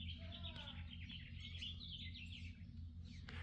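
A bird chirping in a garden among roses, a few faint, quick tweets over a steady low background hum.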